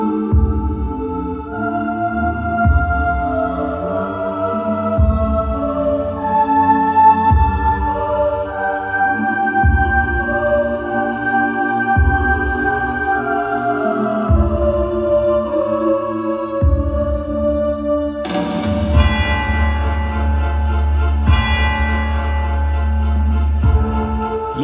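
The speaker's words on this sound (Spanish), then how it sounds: "Lo que están escuchando es el sonido que proviene de estas pequeñas bocinas." Retro video game music plays through small speakers, a continuous melodic tune with bouncing bass notes and bright chiptune-like tones, fairly loud and steady with no talking.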